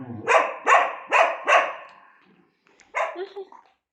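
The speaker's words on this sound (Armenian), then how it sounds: "Հա, հերիքա հաչաս, արի կեր" A dog barks four times in a quick, evenly spaced run, pauses, then gives a couple more rough barks and a short yip, loud and close with no one talking.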